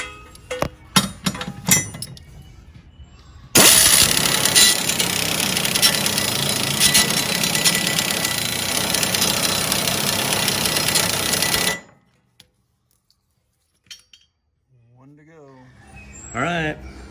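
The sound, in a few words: lawnmower engine starting and running with new high-lift blades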